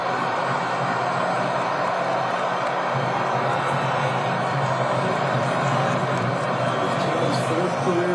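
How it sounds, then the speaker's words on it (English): A stadium crowd roars at a World Cup free kick between the United States and Belgium, a broad steady wash of cheering and whooping that holds through the whole stretch, with a commentator talking over it. "Listen to the crowd come to life here"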